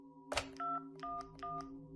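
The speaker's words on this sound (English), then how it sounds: "The man dialed 911 and told the operator that he needed police assistance immediately" A telephone dials 911, a sharp click followed by three evenly spaced touch-tone beeps, clear and alone over a low steady hum.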